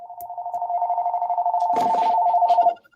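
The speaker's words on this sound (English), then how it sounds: "Tracy, let me get the phone" A telephone rings in a steady electronic trill for nearly three seconds, fairly loud and close, then stops abruptly, with some faint background noise partway through.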